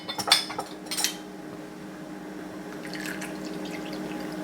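Grape water and milk are poured into a glass for a home cough remedy: a few sharp clinks of glassware come first, then a soft, steady liquid pour trickles close by, with no voices.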